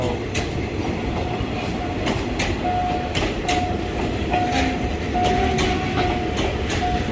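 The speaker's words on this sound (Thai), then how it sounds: "ส่วนคันนี้ขบวนเปล่านะครับ รถเปล่า" An Alsthom 4150 diesel locomotive hauling an empty train past a level crossing, steady close rumble with repeated clickety-clack wheel beats over the rails and faint tonal whines, no talking.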